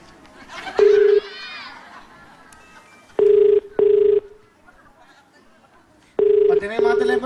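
Telephones ring on a TV game show during a call-in prize draw, sharp electronic bursts repeating in short pairs, loud and near, with people talking and chattering between the rings.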